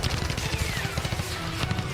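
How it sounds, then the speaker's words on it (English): Rapid gunfire in a war video game set during a mechanized assault on the North Pole, a steady rattle of overlapping shots under a dense, noisy battle backdrop, moderately loud throughout. "And here we go with some more gunfire."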